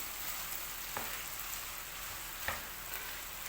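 Onions and peppers sauté with meat in a pan, a soft, steady frying sizzle with a couple of light stirring knocks.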